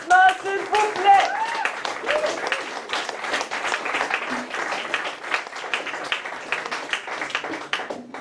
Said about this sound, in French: Une grosse main d'applaudissements, s'il vous plaît!